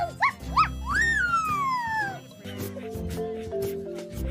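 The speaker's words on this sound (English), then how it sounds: "Socks mostly communicates through barking." A cartoon dog character, Socks from the animated series Bluey, gives a few short yips and a long rising-then-falling whining bark over background music, fairly close and clear.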